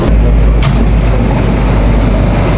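An NYC subway R179 M train on the elevated J line in Brooklyn rumbles loud and close from inside the car, a steady heavy roar with low wheel and track noise.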